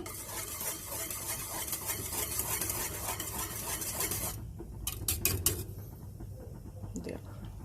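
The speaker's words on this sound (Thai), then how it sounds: "นี่ค่ะแล้วเราก็เคี่ยว แล้วก็คนไปเรื่อย ๆ นะคะ" Watermelon jelly mixture simmers in a pot while a utensil stirs it with a soft continuous scraping and bubbling, then a few sharp clinks near the end, faint with a voice briefly present.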